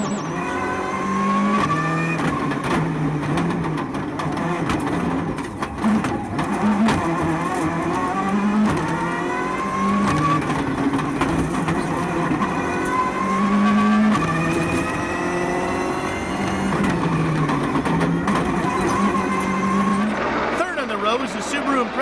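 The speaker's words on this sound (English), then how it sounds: "Was the Subaru Impreza of Tommy Mäkinen." Subaru Impreza rally car at speed on a 2002 Catalunya rally stage, engine howling continuously with gear changes and tyre noise, loud and close, while a co-driver's pace notes and commentary run over it.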